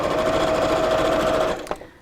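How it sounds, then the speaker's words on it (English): A sewing machine at a live sew-along stitching fabric onto the top of a quilt block runs loud and steady in a close whirring drone, then slows and stops with a single click. "I'm just sewing that to the top of there."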